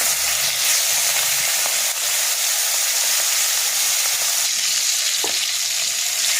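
Prawns fry in hot mustard oil in a wok, giving a loud, steady sizzle that carries through the whole stretch with only small shifts in intensity.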